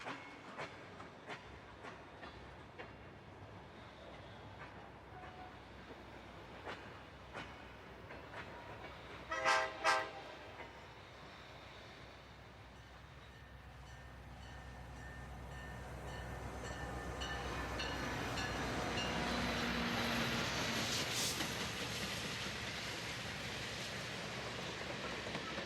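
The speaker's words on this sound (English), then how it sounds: "our yard crew continues to work track 2 to build the outbound train" A train being built on a rail yard track moves slowly, with faint rumbling and scattered clanks, a brief pair of louder knocks midway, then a swelling roll of wheels toward the end; no talk.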